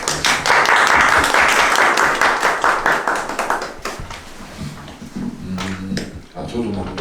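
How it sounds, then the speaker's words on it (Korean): Audience applause for an actor after a dramatic reading at a talk event: dense clapping loud at first, then thinning into scattered claps as talk begins underneath. "낭독극을 멋있게 맞춰주신 배우님께 이제 박수 한번 더 부탁드립니다."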